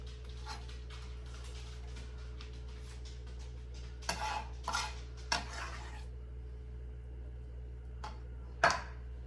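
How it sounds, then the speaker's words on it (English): Corn being stirred into soup in a pot, soft scattered spoon scrapes and a few louder clinks against the pot over a steady low hum, no voices. "Give that a good stir."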